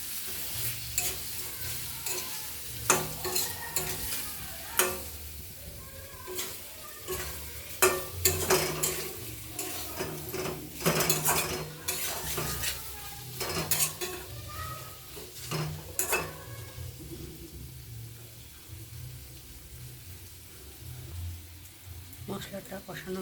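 Spice paste for potol posto, a Bengali dish of pointed gourd in poppy seed paste, stirred in a pan with a little sugar: repeated scraping and stirring strokes over a low sizzle, close and fairly loud, with intermittent utensil knocks.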